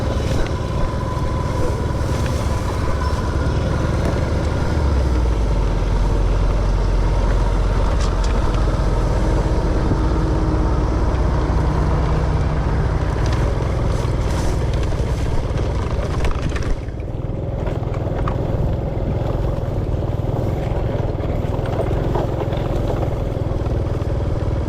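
A rice harvesting machine's engine runs steadily and loudly through the whole stretch during a dry-season harvest near the Tonle Sap in Thmorkoul, its droning tone shifting slightly partway through.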